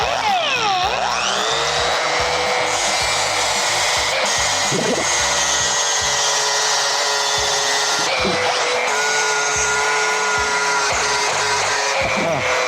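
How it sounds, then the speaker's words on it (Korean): A 3M Cubitron 3 flap disc on an angle grinder grinds a weld seam on a steel H-beam, a loud, steady high-pitched whine that holds throughout with brief dips as the disc bites and lifts. "이쪽에 보시면 용접 자국이 있습니다. 이 용접 자국을 연마해 볼게요."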